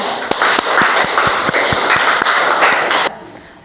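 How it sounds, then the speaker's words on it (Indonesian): A class of students in a classroom claps hands together in a steady rhythm of sharp, loud claps over a busy room wash for about three seconds before the sound drops away. "Kita tepuk tangan dulu."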